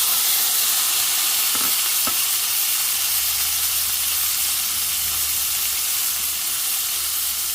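Corn kernels frying in a pan for tacos, giving a loud, steady hiss and sizzle throughout, with a couple of faint clicks of a utensil early on.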